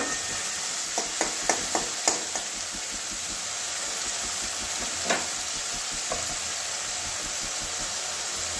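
Spice paste frying in oil for a soybean and okra-potato curry, a steady close sizzle with a few sharp stirring scrapes and clicks near the start, then mostly even frying noise.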